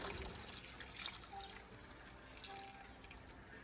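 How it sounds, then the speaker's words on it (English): Whisked herb mixture poured over the top of food in a slow cooker, a faint, steady liquid trickle lasting a few seconds with no talk. "And then you're gonna pour that over top"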